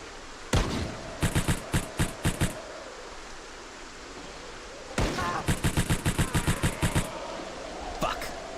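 Bursts of rifle fire in the zombie survival game Project Zomboid, 5.56 rounds emptied from a magazine in rapid sharp cracks, two long strings of about a dozen shots each plus a few stray shots, loud and close.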